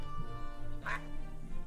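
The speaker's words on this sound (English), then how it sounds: "Look, we have ducks." A single short burst of quacking from ducks in the video game Tiny Glade, heard briefly against a steady soft game-music background.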